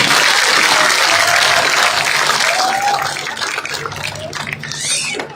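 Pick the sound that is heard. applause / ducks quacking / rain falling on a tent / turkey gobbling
applause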